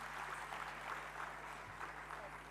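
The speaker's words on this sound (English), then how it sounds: "Please show your appreciation by applauding generously to this team." An audience applauds a dance team at an inauguration event, soft and distant under a steady electrical hum, a faint continuous patter of clapping.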